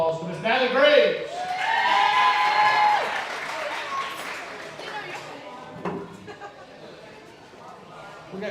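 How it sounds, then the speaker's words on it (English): An audience applauds a player at a Buckeye Panthers coach's show, with a burst of clapping that swells and then fades gradually beneath a voice speaking over it. "Everybody give a big round of applause for Miss Natalie Graves."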